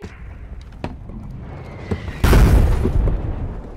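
An RPG rocket slamming into a tank in a World War II video game battle: a loud, close explosive boom that rumbles and decays over a second or so, following quieter ambient game noise.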